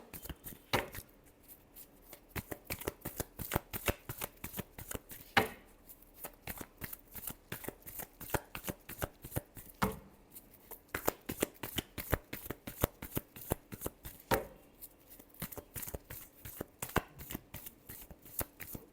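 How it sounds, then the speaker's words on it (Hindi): Tarot cards are shuffled by hand in long repeated bursts of rapid riffling flutter, close and fairly quiet, with brief pauses between rounds. "चलिए लास्ट शफल देखते हैं।"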